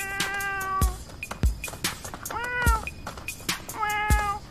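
A person imitates a cat, giving three loud, drawn-out meows in a row, close and clear with short pauses between them and no other talk.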